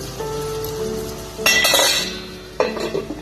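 Tomato mixture for batani chaat stirred in a pot, with a soft steady background hum and then two bursts of close scraping and clinking of a spoon against the metal pot.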